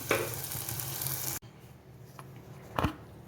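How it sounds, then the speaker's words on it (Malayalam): Oil sizzles loudly in a pan as salted carrot pieces fry for pickle, then drops abruptly to a quieter crackle, with a brief stirring scrape near the end. "ഇനി നമുക്ക് കാരറ്റ് വറുത്ത് കോരാം"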